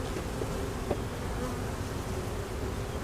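Nurse bees crowd a packed hive frame during queen grafting, their steady, dense buzzing hum filling the air up close with no pauses and no voices.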